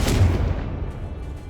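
A Confringo fire spell blast in Hogwarts Legacy lands as a single loud, deep boom that opens the clip and then rolls off into a fading low rumble.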